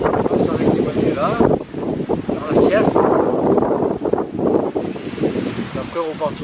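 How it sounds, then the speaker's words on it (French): Wind buffeting a microphone during a bike ride, a loud continuous roaring rumble with gusty surges, while a person talks beneath it. "je ne sais pas si vous entendez quelque chose avec le vent"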